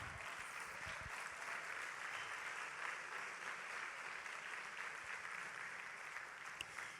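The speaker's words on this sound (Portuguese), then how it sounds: "dê um aplauso ao Senhor." A church congregation claps in sustained, even applause that fills the room at moderate volume for several seconds, with no voices standing out.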